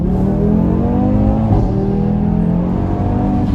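A 2018 Audi RS3 accelerates hard under full throttle, a loud continuous engine roar whose pitch climbs steadily, dips briefly at a gear change, then keeps rising, heard from inside the car.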